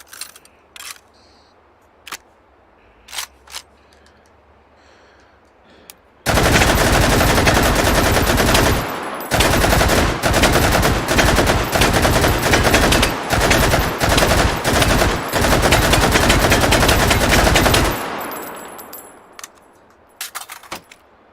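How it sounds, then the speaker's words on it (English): An RPD Russian light machine gun fires in H3VR in one long sustained automatic burst of rapid, loud cracks lasting about eleven seconds, after a few scattered metallic clicks and clanks. "RPD, the Russian LMG."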